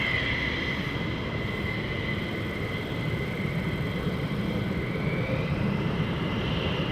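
Fighter jets at RAF Lakenheath preparing to depart, giving a continuous loud jet engine roar with a steady whine that rises and shifts, heard alone with no talking.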